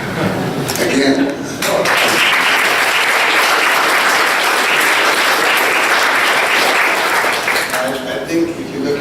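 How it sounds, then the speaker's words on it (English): Audience applause at a design thinkers and innovators event, a dense sustained burst of clapping that fills the room loudly for most of the stretch, then thins slightly toward the end. "That's a very short applause."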